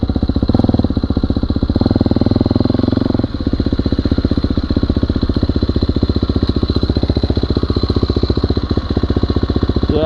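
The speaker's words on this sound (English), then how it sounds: "I'm going to do a second gear coast so you can hear the engine braking" A motorcycle engine, set up with a Rekluse clutch, runs loud and close in a steady rhythmic drone while coasting in second gear under engine braking, with a brief dip in level partway through.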